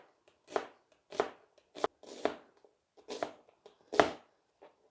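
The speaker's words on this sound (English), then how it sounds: "we'll have one large onion and we're going to half moon slice it" A knife chops through a large onion into half-moon slices on a board, about eight crisp, evenly spaced cuts with short pauses, close and clear with no talking.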